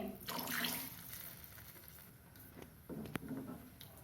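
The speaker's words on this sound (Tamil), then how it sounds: "நமக்கு எவ்வளோ குழம்பு தேவையோ அவ்வளோ தண்ணி ஊற்றிக்கலாம்." Water poured into a pot of drumstick curry, a soft splashing and trickling pour that swells early, eases off, then briefly returns, with no voices.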